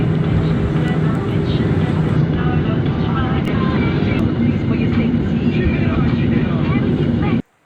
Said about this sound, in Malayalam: രാത്രിയായി ടേക്ക് ഓഫിൻ്റെ ടൈമായി